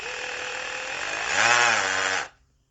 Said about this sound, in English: when you push this in, it actually starts to, it vibrates as it drills